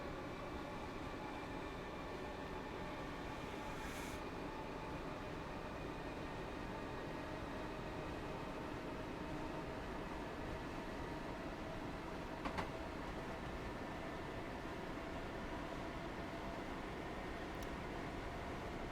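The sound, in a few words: train climbing uphill in video game Train Sim World 3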